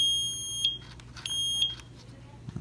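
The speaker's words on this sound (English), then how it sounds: "See, here's the buzzer." An electronic buzzer in a homemade circuit sounds two shrill, steady beeps, each about half a second long, close and fairly clear over a quiet hum.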